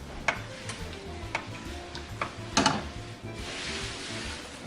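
Creamy sauce for pancetta and cheddar scalloped potatoes coming to a simmer while being stirred, soft bubbling with scattered close spoon taps and clicks against the pot.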